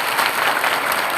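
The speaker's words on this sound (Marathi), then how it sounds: "एकदा साहेब जोरती टाळी वाजवून धन्यवाद दे." Applause from an audience at a commemorative speech event in Nagpur, a dense, steady wash of clapping filling the moment without a break.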